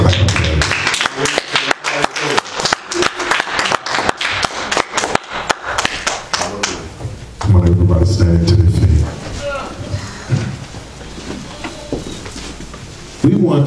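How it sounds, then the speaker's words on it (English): A church congregation claps together, loud and continuous at first, then fades under a voice and what sounds like music. "y'all go ahead and give God a hand clap"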